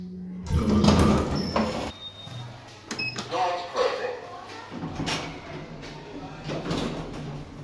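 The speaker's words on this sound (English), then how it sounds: "Doors open." Lift doors at Watford Junction station slide open with a mechanical rumble and short electronic beeps, under background voices and a station hum.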